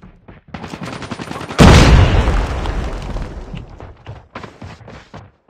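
A grenade explosion in a mobile shooter game lands with a sudden loud boom that decays into scattered gunfire, preceded and followed by voiced callouts.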